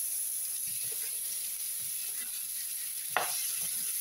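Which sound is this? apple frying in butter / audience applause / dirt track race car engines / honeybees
apple frying in butter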